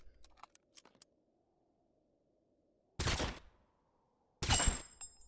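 Gunshots at a shooting range in the video game Totally Accurate Battlegrounds: a few faint clicks, then two loud, sharp shots well apart, separated by near silence.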